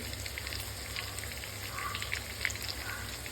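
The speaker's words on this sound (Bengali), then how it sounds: "পেঁয়াজগুলো দেখুন সুন্দর লাল লাল একটু ভাজা হয়ে গেছে" Onions frying in a pan give a steady, soft crackling sizzle with scattered small pops, close by and fairly quiet.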